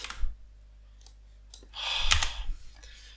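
A computer mouse clicks a few times, with crisp, close taps spread across a quiet moment, one of them joined by a brief soft rustle.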